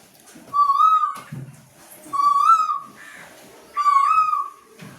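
A human voice imitates a koel in a mango tree, whistling three rising, repeated calls with clear pauses between them, close and fairly loud.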